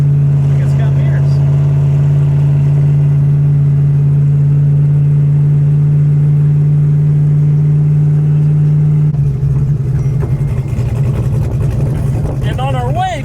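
A loud 2,000-horsepower street car engine idles with a steady low rumble, then picks up and revs higher near the end, with voices talking over it.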